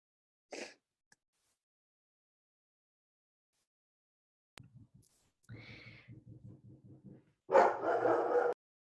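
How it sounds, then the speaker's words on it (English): Dog barking indoors in short bursts: a lone yip, then a run of rapid, evenly spaced barks, ending in a louder, sustained flurry of barking nearby. "And my dog's barking."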